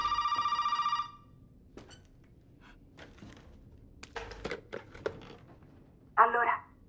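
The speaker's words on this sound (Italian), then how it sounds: "Non ho visto questo telefono." An old-style telephone bell rings loudly in a Resident Evil 7 game scene, stops, then gives scattered faint clicks and handling noises before a short second burst of ringing.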